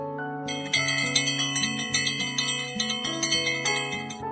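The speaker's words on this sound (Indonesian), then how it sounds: "lu pada kagak dengar udah bel masuk apa?" A school entry bell plays a clear, ringing electronic chime melody of repeated tones, loud and steady and heard alone without talk.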